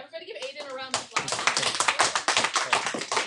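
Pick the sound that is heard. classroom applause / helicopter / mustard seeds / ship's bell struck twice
classroom applause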